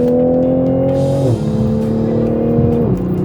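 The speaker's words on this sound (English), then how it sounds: "I'm gonna put it into sport, and the exhaust is going to get louder" A loud Toyota Supra exhaust blares in sport mode under hard acceleration, its pitch climbing and then dropping twice as it shifts up through the gears.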